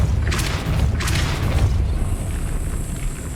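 A Depulso force spell is cast in Hogwarts Legacy, two deep whooshing bursts about a second apart over a low rumbling game background, followed by a lingering high tone.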